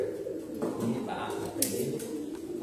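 Soft pigeon coos, low and rounded, repeating in a pigeon loft under a quiet background murmur of voices.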